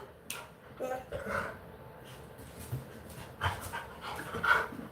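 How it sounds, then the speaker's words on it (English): A dog pants steadily and close, with soft sniffs and whimpery breaths and a brief bark-like yelp, over quiet indoor background. "he's protecting Thomas's right to free speech, to free bark."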